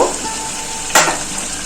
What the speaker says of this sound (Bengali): মশলার সাথে চিকেন খুব ভালো করে কষানো হয়ে গেছে দেখুন তেল ছেড়ে গেছে